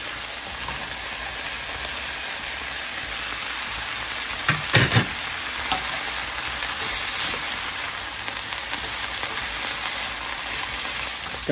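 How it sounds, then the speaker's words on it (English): Sausage and peppers frying in a pan, a constant close sizzle like steady rain, with a brief cluster of louder clatter and stirring bumps midway, no voices. "And now we want to add our sausage back in"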